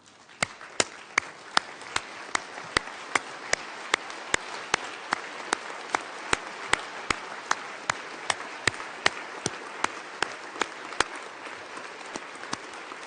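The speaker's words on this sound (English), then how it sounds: "give a hand of applause to families who are supporting people with autism" At a World Autism Awareness Day event at the United Nations, the audience applauds families supporting people with autism. Sharp, evenly spaced claps ring out over a steady bed of softer clapping for several seconds, with no voices.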